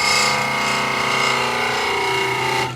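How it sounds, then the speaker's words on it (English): A spindle gouge cutting a bead on a piece of wood spinning on a lathe, a loud continuous scraping whir with steady tonal hum for nearly three seconds before stopping abruptly. "I'll come in there with the spindle gouge in a minute. There we are, we'll do a nice little bead on this side."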